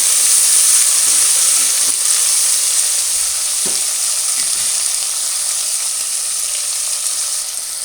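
Potato, cucumber, carrot, beetroot and beans fry in a little oil, a loud, steady sizzle close up with a few faint clinks of stirring and no speech.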